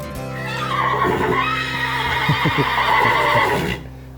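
A horse lets out a long, loud whinny, rising and then shaking through several rapid pulses before cutting off, with no talking around it.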